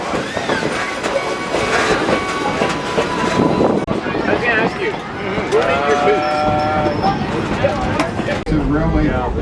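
Kettle Valley Railroad steam locomotive 3716 rolls loudly nearby through the Okanagan Valley, with steady rumble, clanking wheels and squealing flanges, and voices and other sounds mixed into the din.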